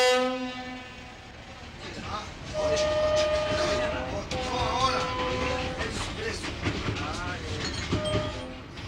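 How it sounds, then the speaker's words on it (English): Train running on a long ride out of La Paz, Bolivia, with a sustained horn-like tone at the start, then rumbling wheels and clatter throughout, fairly loud and close, with voices and a musical layer over the top. "From La Paz, it's a 13-hour train ride"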